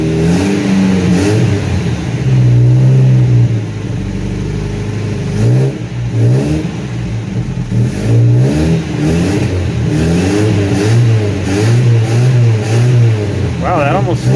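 A 1975 Chevy LUV pickup engine, first time running in years with a carburetor needing work, idles roughly and revs up repeatedly in uneven surges, loud and close, while people talk over it.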